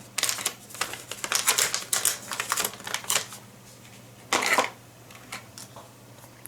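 An antenna is slid into a plastic foil bag close by. Irregular crinkling and rustling bursts of the plastic foil come in short bunches with pauses between them, over a faint steady hum.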